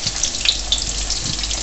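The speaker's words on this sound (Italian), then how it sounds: "L'olio è bollente." Meat rolls (lumpiang shanghai) frying in hot boiling oil, a steady close sizzle and crackle with scattered pops running throughout, no talk over it.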